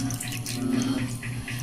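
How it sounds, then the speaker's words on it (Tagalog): Water pours from a kitchen tap for cooking, a steady, close, full-bodied gush that runs without a break through the whole moment. "Lagyan natin ng tubig."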